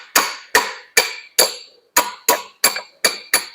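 Nine sharp metallic hammer blows on a socket extension used as a drift while working on a Yamaha XS1B motorcycle, close and ringing, struck at a steady rhythm with a brief pause midway.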